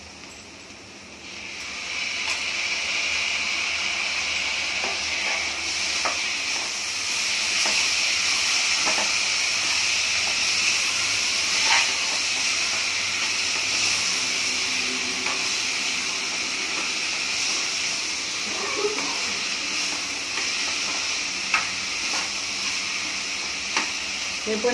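Tomatoes hissing and sizzling in a hot pan while cooking for a tomato chutney, a steady loud frying hiss after they drop in, with occasional pops and stirring clinks throughout.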